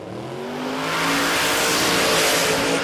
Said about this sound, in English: Good run for Cowie, 462, that's right in the sweet spot.